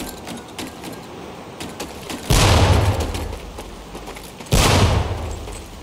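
Two training grenades blast in a Medal of Honor Pacific Assault boot camp, each a sudden loud boom with a rumbling tail, spaced a couple of seconds apart over a low background of game ambience.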